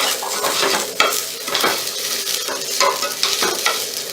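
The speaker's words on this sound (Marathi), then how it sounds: "तांदूळ चांगला परतून घ्यायचा आहे" Rice being stirred and sautéed in a hot pan, a steady sizzle broken by repeated scraping strokes of a spoon, close and fairly loud.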